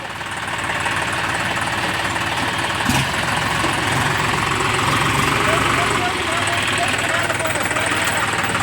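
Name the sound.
tractor engine idling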